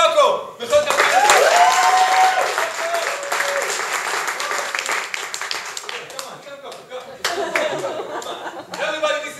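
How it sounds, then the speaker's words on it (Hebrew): Audience applause and clapping fill a live RC show as a performer is introduced, loud and sustained for several seconds with some chuckling mixed in, fading slightly toward the end. "מחיאות כפיים"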